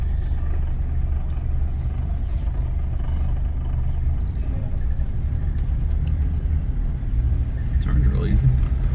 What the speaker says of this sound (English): Does it feel weird driving on the road?